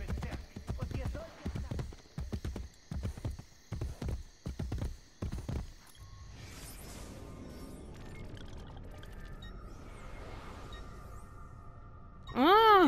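Horse hooves clip-clop in a rhythmic run in the Assassin's Creed Brotherhood video game, loud distinct beats for several seconds, then a steadier background rumble and a sharp rising effect at the end.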